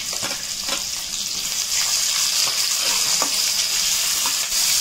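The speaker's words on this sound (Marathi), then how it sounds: "कांदा गोल्डन ब्राऊन होईपर्यंत परतून घ्यायचा आहे." Sliced onion and green chillies sizzle steadily in a hot oil-filled pan, a constant crackling hiss with occasional stirring taps and no talk.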